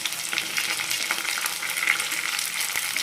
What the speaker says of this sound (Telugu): అలాగే ముందుగా కట్ చేసిన ఆనియన్ ముక్కలు వేస్తున్నానండి